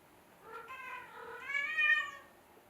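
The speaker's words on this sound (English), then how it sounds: "My kitty wants to come in." A cat meows from outside a closed door, two drawn-out rising calls, clear and fairly close in a quiet room.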